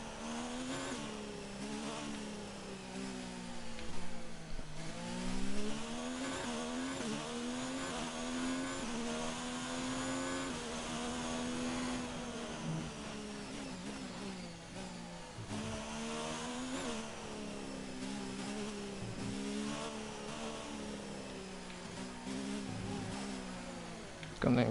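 Racing car engines whine steadily in F1 2019, a Formula One video game, on the Abu Dhabi Grand Prix circuit, rising and falling through gear shifts with a rival Ferrari close behind.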